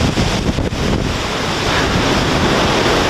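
Loud, steady roar of hurricane wind battering outdoors, a dense broadband rush with gusty surges and buffeting on the microphone, no voices.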